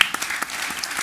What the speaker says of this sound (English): A little round of applause for our two guests.